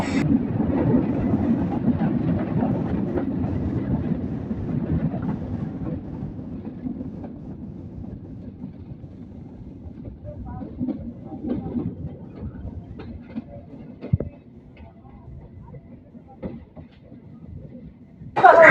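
A train at Chuadanga railway station in Bangladesh gives off a steady low rumble that slowly eases, with faint scattered clicks and knocks and a sharper burst near the end.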